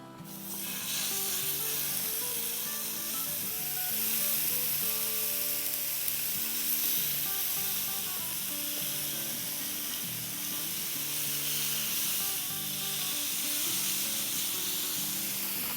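Chicken pieces for butter chicken karahi hiss and sizzle steadily in a pan of tomato masala, a loud continuous frying crackle that holds for the whole stretch without speech.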